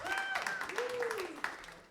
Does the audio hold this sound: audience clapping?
yes